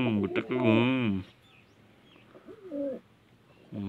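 Pigeons coo from their coops in low, throaty, wavering calls, loudest in a strong burst at the start and a softer phrase near the end, with a voice speaking nearby.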